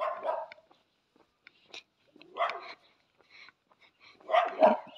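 A dog on a quiet street early on New Year's morning barks several times at a passerby: three or four separate bark bursts at moderate distance, with soft yips between them.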